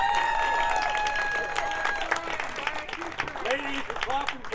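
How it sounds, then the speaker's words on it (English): Audience applause for the moderators at a gathering, a dense wash of clapping that stays steady throughout, with scattered voices and a few tonal sounds mixed in. "Please give them a good round of applause."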